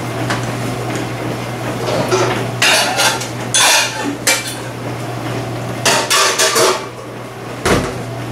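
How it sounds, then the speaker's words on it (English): A spoon stirs simmering homemade spaghetti sauce in a pot, scraping and clinking against the metal in bursts over a steady low hum. No one speaks. "Just come in here and give it a good stirring."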